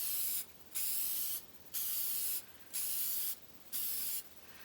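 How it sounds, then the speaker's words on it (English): Light coat of lacquer sprayed onto a wooden bowl as a final finish: five evenly spaced, loud hissing bursts from the spray can, each about half a second, separated by short pauses. "let's get a little lacquer on here. And this is going to be just a light coat."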